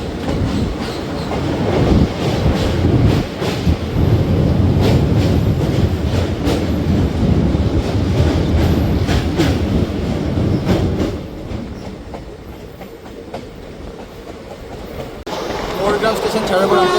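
The Azimganj to Howrah Ganadevta Express at Morgram station in Murshidabad district gives a loud rhythmic clickety-clack of wheels over rail joints heard from on board, then eases to a quieter rumble as it slows, with a voice speaking over it.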